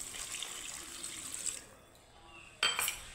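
Water is poured into a pan of spices that have just finished frying, giving a steady rushing pour that thins out, then a sharp burst of splashing and sizzle near the end.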